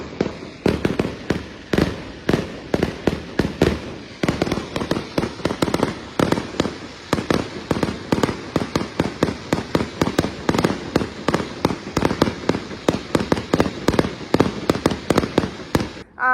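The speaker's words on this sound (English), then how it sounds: "It was like the worst fireworks show ever." Fireworks pop and crackle in rapid, irregular bursts for a long stretch, sharp bangs layered over one another at a distance.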